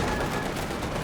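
Dense, loud gunfire crackles on a Company of Heroes 2 battlefield, steady overlapping bursts with no gaps.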